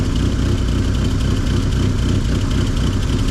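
A quiet car engine ticking over at idle, a steady, even low rumble that fills the moment up close with no pauses.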